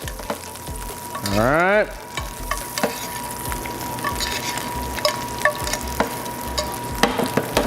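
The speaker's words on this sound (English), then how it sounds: "something about that real nutty flavor you get from butter when you brown it is just awesome. So you just go ahead and just baste it" Food fries and is basted in browning butter, with a steady close sizzle, spoon scrapes and clicks, and a brief rising whine early on; a voice speaks briefly.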